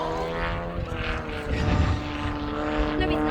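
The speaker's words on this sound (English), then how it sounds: "the aircraft describes a circle over the ground while it's actually rolling" A propeller aerobatic display plane rolls and circles overhead at an air festival, its engine droning loud and steady with a rising swell midway as it passes.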